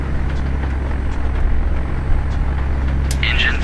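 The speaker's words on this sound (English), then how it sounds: "Engine 3 is starting up." Engine 3 of a B-17 bomber in the FSX flight simulator starts up, a loud, continuous low rumbling throb that holds steady, with a faint higher tone near the end.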